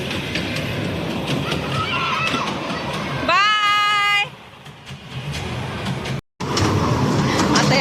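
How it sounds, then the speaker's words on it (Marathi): A small ride-on train rumbles and rattles along loudly, with a brief high whistle partway through and a short cut in the sound near the end. "दोघांची ट्रेन चालू झालेली आहे. ट्रेनमध्ये बसलेत दोघं."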